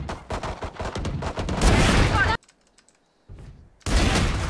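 Rapid rattling gunfire from the video game Valorant, loud clustered shots with keyboard clicks, a sudden near-silent gap, then another burst, with a player talking in places.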